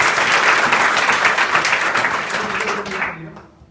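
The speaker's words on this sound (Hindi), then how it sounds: "आंचल के लिए एक जोरदार ताली बजाइए।" Audience in a college hall clapping loudly for a young student, dense steady applause that fades out near the end.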